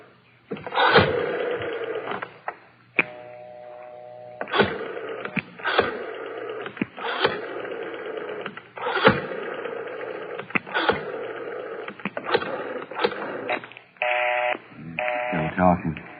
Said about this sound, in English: Dial 9 to get outside